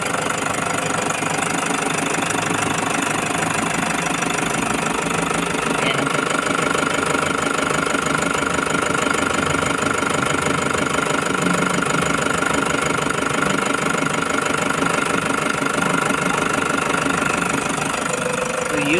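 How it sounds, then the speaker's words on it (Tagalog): A Toyota Hiace engine idles after an oil change, a steady close rumble with a rapid, even ticking knock throughout, unbroken from start to finish, with faint talking buried beneath. "paanda rin na muna natin para umikot na yung oil sa loob ng kanyang engine"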